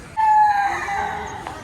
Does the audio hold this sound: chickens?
yes